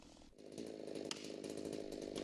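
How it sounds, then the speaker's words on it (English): A chainsaw cuts trees during tree-service work, revving up after a short pause and then running loud and steady at close range. "Chainsaw"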